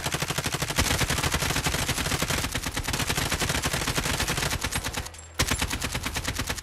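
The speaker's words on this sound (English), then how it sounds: "this AK even mounted is not the best from far" Sustained automatic AK rifle fire in Call of Duty Warzone's zombie royale mode, dense rapid shots ringing out nearly continuously, loud and close, with one brief pause before the burst resumes.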